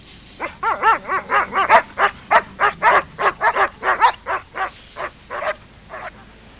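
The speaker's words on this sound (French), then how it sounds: "Oh, ces chiens. Ils ont juré de me rendre fou." Dogs bark loudly in a quick, steady run of about twenty barks over several seconds, with no other sounds around them.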